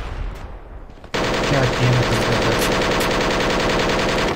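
After a brief quiet start, sustained automatic gunfire erupts in the military shooter Project Reality. A dense, loud, rapid stream of shots runs without pause to the end.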